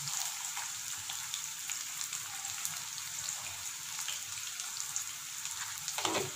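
Curry leaves fry in hot oil in a pan, giving a steady, soft crackling sizzle with faint pops, heard alone and close for a few seconds while a tomato bath is cooked.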